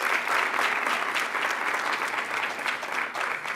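A crowd at a Martin Luther King Jr. Day celebration applauds a performance steadily, dense clapping at an even level from start to finish.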